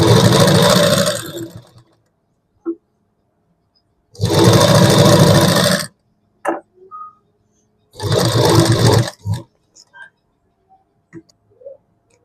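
Loud, close sewing machine bursts run in three separate spells of about two seconds each while it stitches reversed piping on a V-shape neckline, with quiet clicks and handling noises between the runs.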